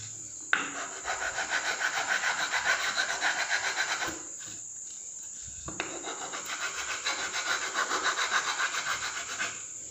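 A metal file rasps in steady back-and-forth strokes, two close bursts of rhythmic scraping separated by a brief pause, with no talking.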